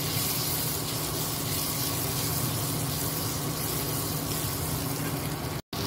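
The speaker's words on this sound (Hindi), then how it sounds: "टमाटर को अभी मैं अच्छे से पकाऊंगी।" Chopped tomatoes with chili powder, turmeric and coriander powder cook in a pan, giving a steady, loud sizzling hiss that runs unbroken except for a momentary cut near the end.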